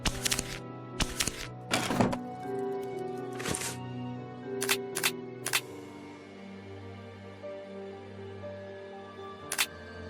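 Typewriter keys clack in a Sherlock Holmes video game, a few sharp separate strikes and thunks spread out over a background of soft ambient music, close and crisp.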